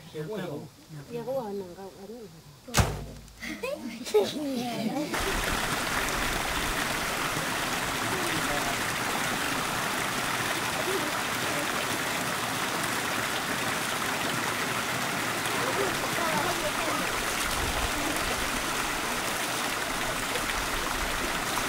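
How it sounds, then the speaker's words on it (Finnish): Shower water pours steadily from an open tap in a city setting in Papua New Guinea, a continuous broadband rush that fills the scene after a few seconds of quieter, uneven sounds and voices at the start. "Tämän suihkun hanaa ei suljeta pois lähtiessä."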